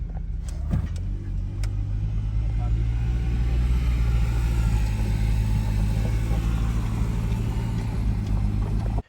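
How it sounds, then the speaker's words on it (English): A Nissan 300ZX engine runs at a steady, even idle as the car is moved down a driveway, a continuous close, loud hum with a few brief clicks near the start, then cutting off abruptly at the end. "I'm gonna go ahead and input a video of me moving the car."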